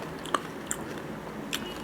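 Crunchy honey-flavored corn nut snacks are bitten and chewed up close, producing three sharp, separate crunches over a quiet background with no talking.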